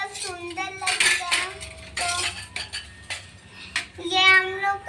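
Metal cooking pots and utensils clink and clatter in short bright bursts, handled in a home kitchen, with voices talking nearby between the knocks.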